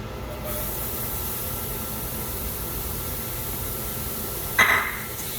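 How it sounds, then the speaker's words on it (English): Onions sizzling in a pan over a medium flame, a steady broadband hiss close by with no talk, briefly swelling near the end. "on a medium flame, put the onions"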